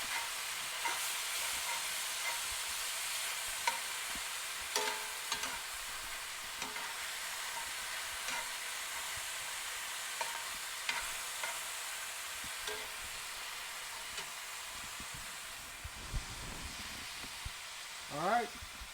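Broccoli stir-fries in a pan over high heat: a soft, continuous hiss of frying with scattered light clicks and pops, faint and fairly even throughout, with a couple of louder scrapes near the end.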